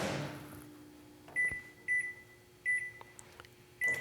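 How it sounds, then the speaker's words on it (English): A microwave oven hums quietly while a series of short electronic beeps sound at irregular intervals as buttons are pressed. "place them in a glass dish and put that in the microwave."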